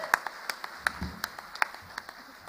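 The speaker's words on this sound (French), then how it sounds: "Applaudissements encore pour eux." A small audience at a concert claps sparsely with sharp separate hand claps spread over a few seconds. A low voice murmurs briefly underneath.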